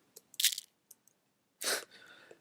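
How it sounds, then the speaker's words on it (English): A small shaker in an electronic beat with the lows and mids removed, giving short bright rattling hits in an uneven pattern, then a longer shake trailing off, crisp and close. "So the next thing we have here is this little shaker"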